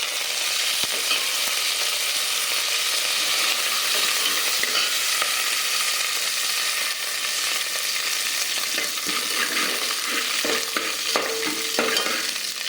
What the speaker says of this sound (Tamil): நல்லா எண்ணெயில் வதக்கணும்